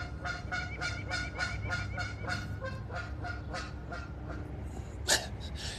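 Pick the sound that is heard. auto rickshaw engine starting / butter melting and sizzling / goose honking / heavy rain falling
goose honking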